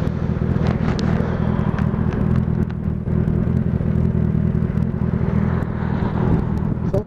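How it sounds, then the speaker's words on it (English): Loud, steady wind buffets an outdoor microphone with a continuous low rumble and rough crackling bursts, no voices present. "Fucking wind."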